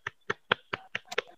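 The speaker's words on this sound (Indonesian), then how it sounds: "Tepuk tangan untuk Mbak Kanaya, anak-anak" A short burst of claps from schoolchildren applauding a classmate, six or seven separate sharp hand strikes at a fairly even pace, crisp and close with nothing else around them.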